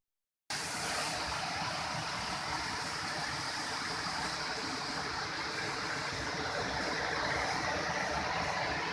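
A stream flows steadily at the border between Muak Lek in Saraburi and Pak Chong in Nakhon Ratchasima, Thailand, near Muak Lek waterfall, giving a continuous broadband rush of water from close by, with no talk.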